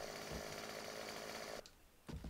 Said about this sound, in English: Just what every survivalist needs is a chainsaw.